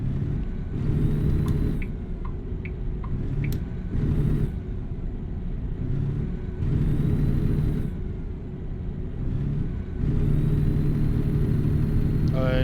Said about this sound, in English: do you also hear the strange noises that this truck is making?